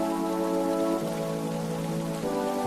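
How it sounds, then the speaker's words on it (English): Heavy rain pours against windows in a continuous loud, dense wash, with a steady low hum running underneath. "Rain hammered violently against the windows."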